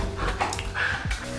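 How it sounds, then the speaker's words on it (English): An Australian Shepherd dog whimpers and makes soft yips close by indoors, a few short vocal bursts over steady background hum. "He is an Australian Shepherd and he is our good friend's dog"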